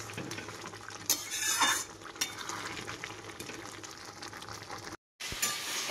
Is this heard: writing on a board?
no